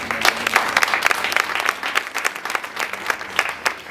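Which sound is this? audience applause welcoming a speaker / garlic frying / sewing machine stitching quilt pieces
audience applause welcoming a speaker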